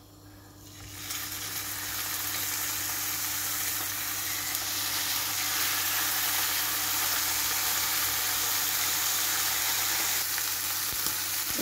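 Entrecote steak sizzles loudly and steadily in a hot pan, a dense continuous frying hiss that starts after a brief quiet moment and holds without a break.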